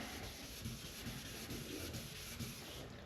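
Steady, close scratchy rubbing of sandpaper over a custom paint job, repeated back-and-forth strokes in an even rhythm.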